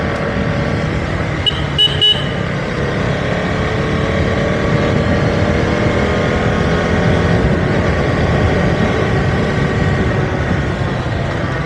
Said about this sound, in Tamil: சும்மாவே இன்புட் கொடுத்தாலே பயங்கரமாக ஏறுது வண்டி